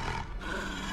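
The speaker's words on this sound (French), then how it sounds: "le caporal Charlie vient d'entendre le loup crier." A wolf's drawn-out howling cry plays as a sound effect during a tabletop role-playing game session, loud and continuous, filling the whole moment with a dense roaring tone and no talk over it.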